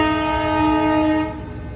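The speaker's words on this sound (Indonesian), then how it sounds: "itu dia teman-teman kereta apinya ya" A commuter train, number 349 on the Garut–Purwakarta route, sounds its horn at the busy Kiara level crossing in Bandung: a loud, steady, sustained horn blast with rumbling rail noise beneath, fading away after about a second.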